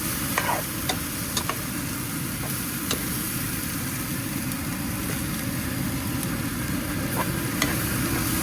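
Cumin seeds and garlic sizzling in a pan for a sausage pulav, with a steady dense frying hiss and occasional light ticks of a stirring utensil, close and continuous with no talking.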